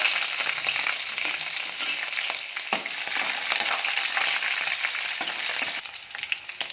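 Slit green chillies and sliced onions frying in a pan for vangi bath give a loud, continuous close sizzle with light crackles and stirring, no talking.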